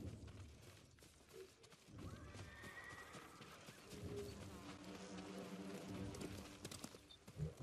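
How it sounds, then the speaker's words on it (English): In the Ghost of Tsushima video game, a horse whinnies loudly and gallops in with rhythmic hoofbeats, over a game soundtrack and some background rumble. "Que vino corriendo mi caballo."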